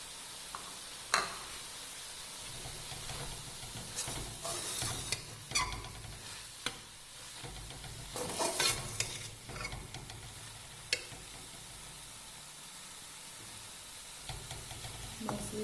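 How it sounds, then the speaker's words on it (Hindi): Carrot halwa stirred in a pan, giving soft sizzling under irregular scraping and knocking strokes of a spoon, some sharp and loud, spread across a quiet background. "इसको सारा सारा हिलाते जाएँ, चीज़ें मिक्स करते जाएंगे।"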